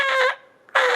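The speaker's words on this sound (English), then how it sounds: "create some kind of sound coming through that" Turkey mouth call blown by pushing air over the reed against the roof of the mouth, giving two short, loud, harmonic yelp-like bursts separated by a brief quiet gap.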